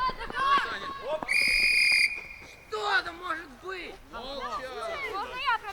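A referee's whistle at a youth football match gives one sharp, sustained blast of about a second, ringing over shouting players and coaches on the pitch, with voices talking before and after it.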